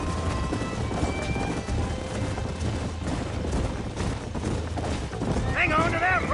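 Horses clip-clopping at a gallop in the Red Dead Redemption western video game, steady hoofbeats under a busy game mix with voices talking and a whinny-like cry near the end.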